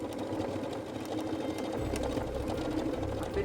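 A PFAFF Creative Ambition 640 sewing machine runs continuously, a steady close mechanical hum and whir of stitching with no pauses.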